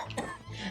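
A single hard, harsh cough from a sick villager at a rural doctor's clinic, loud and close, with a brief throaty rasp and no other talk.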